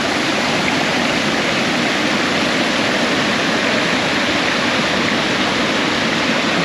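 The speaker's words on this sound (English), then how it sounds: "you'll see right down the falls" A waterfall pours down over granite boulders, a loud, steady broadband rush of falling water that holds unbroken from start to finish, with nothing else heard over it.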